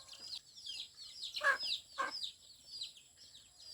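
Chickens clucking around a rural village home, with a few sharper calls standing out among ongoing soft clucks, moderately close, with no talking.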